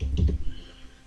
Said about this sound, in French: On va cliquer dessus, on va faire Enter sur notre clavier.